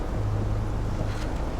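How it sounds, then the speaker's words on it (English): Tornado wind in the game Life Is Strange Remastered, a steady low roaring rush with a constant rumble, continuous and fairly loud throughout. "And there is the tornado."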